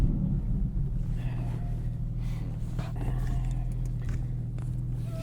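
A 2022 Porsche 718 Cayman GTS 4.0 driving, its engine a steady low rumble heard from inside the cabin with road noise and a few faint knocks and rustles, no clear talking.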